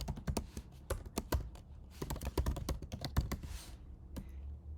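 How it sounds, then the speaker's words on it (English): Rapid clicking keystrokes on a computer keyboard, close and crisp, in quick irregular bursts with brief pauses. "by selecting our view and typing"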